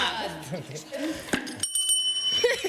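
A bright doorbell rings with a sustained metallic tone after people talk nearby; the ring lingers and fades under a little more speech.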